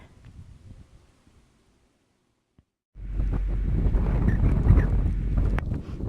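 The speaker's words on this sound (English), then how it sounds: "But it's like really stinking windy," Strong wind roars and buffets the microphone in a loud, steady rush after a few quiet seconds.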